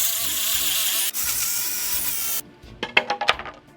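A saw cuts through a piece of plywood, first as a continuous loud buzzing whine that breaks off briefly and resumes, then trails into a few sharp clatters and knocks as the cut finishes.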